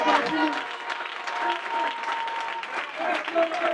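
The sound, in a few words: church congregation applauding for the Lord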